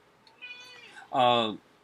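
A house cat gives a short, fairly loud meow, preceded by a softer, higher mew, heard close by with a person's voice also present.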